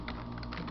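Quick bursts of key clicks as a web address is typed on a computer keyboard, close and steady with no talk.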